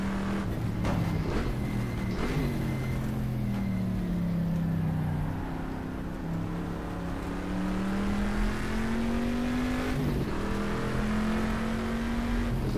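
A Corvette C3 race car's V8 in the GTR2 racing game at 1970s Sebring revs loud and steady, pitch climbing and dipping through gear changes with no talk.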